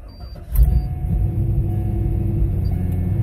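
A 2000 Chevy Corvette C5 with many modifications starts up. A brief crank bursts into a loud, deep idle rumble that holds steady.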